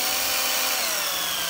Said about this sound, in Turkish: LED'imizi normal bir şarjlı matkapla çevirelim.